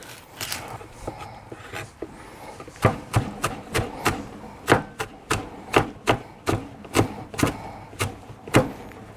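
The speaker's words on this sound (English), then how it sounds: "we need to chop the onions" A knife chops onions on a cutting board in a burger-building kitchen, steady sharp thuds repeating about every half second, close and clear, after a few softer scattered knocks.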